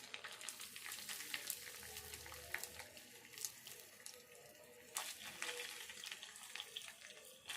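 Whole spices crackle in hot oil for a tempering, part of making potato chapati, giving a steady close sizzle with scattered pops and a few clinks of a utensil against the pan.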